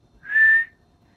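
A single clear whistled tone, a sound effect for yellow warblers flying by in a read-aloud children's story, rises briefly and fades within about half a second.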